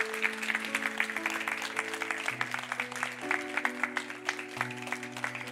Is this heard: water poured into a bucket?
no